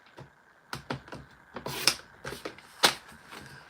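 Card stock is trimmed for a stamping craft, producing a run of sharp, close clicks and brief scraping slides, spaced unevenly over a few seconds in an otherwise quiet room.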